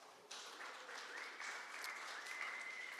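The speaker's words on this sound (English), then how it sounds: "Let's give them a big round of applause." Applause from an audience at a social media breakfast event swells into steady clapping that fills the room, moderately distant and unbroken for a few seconds, with no speech over it.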